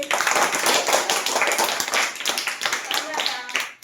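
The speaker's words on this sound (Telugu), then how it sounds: "క్లాప్స్ కొట్టండి." Many children clap together in a classroom during a shapes and mathematics lesson, a dense, steady patter of claps that runs for a few seconds and fades out near the end, with voices mixed in.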